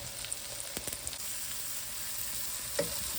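Mushrooms and onions sautéing in butter with Italian seasoning, a quiet steady sizzle with a few faint clicks and light utensil taps, no talking.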